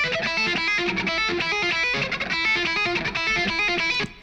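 Electric guitar rhythm tone with the Red Light distortion plugin switched off, playing a steady, dense chugging riff at even volume for about four seconds before cutting off abruptly.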